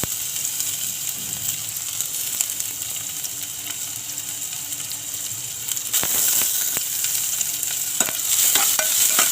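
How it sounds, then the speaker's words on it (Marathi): Continuous crackling sizzle of onion and garlic frying in oil, with scraping stirring sounds growing louder and more frequent toward the end. "कांदा लसूण चांगली फ्राय झालीत."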